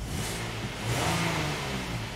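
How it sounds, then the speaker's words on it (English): A car engine runs steadily while the check engine light is on for an oxygen sensor heater circuit fault on bank 2, a moderate mechanical hum with a slight swell partway through, heard alone at close range. "So as you can see, the engine is running"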